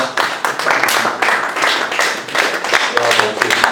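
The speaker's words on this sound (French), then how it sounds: "Applaudissons le Seigneur." Church congregation clapping together in rhythm during a worship service, with dense, steady handclaps filling the room and some voices mixed in beneath.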